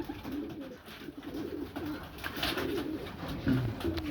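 Pigeons coo at a breeding loft, where homing pigeons serve as foster parents, their low, soft, repeated calls rolling close by without talk.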